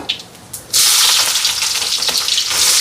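Mustard seeds, cumin, fennel and dried red chillies hit hot oil in a pan: a sudden loud, steady sizzle with popping crackle bursts up close, after a quieter moment, with no talking.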